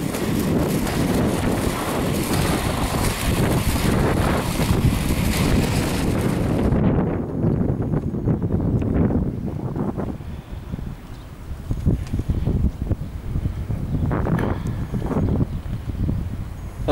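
Steady, loud wind buffeting the microphone while rollerblading outdoors on a ride from Paris to Torcy, a dense roar that thins partway through into gustier rumble, with no talking.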